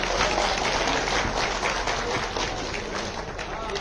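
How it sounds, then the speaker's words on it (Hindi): Steady applause from a crowd at a political party event, dense clapping that stays fairly even throughout with no clear voices on top. "जोरदार तालियों से स्वागत करें"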